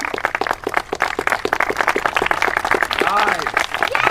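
An audience claps at a funeral gathering while a voice speaks over the applause, the clapping close and irregular and continuing under the talk.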